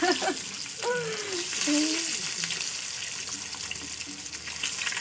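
An egg fries in oil in a pan, giving a steady sizzling hiss throughout. A voice speaks briefly over it near the start.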